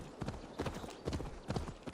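Horse hooves clip-clopping at a steady gallop-like rhythm in Assassin's Creed Valhalla, regular near thuds repeating about every third of a second, with faint game ambience beneath.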